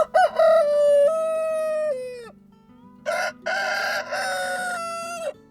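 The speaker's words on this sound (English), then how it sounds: "they started crowing at 5:30 in the morning." Marans roosters crowing close by, two long drawn-out cock-a-doodle-doo calls separated by a short gap, with faint clucking underneath.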